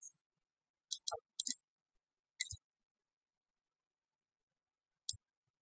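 Numbers typed on a computer keyboard in a quiet room: a few sparse, sharp key clicks, some in quick pairs, then one last isolated tap after a pause.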